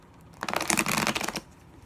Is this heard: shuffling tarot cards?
yes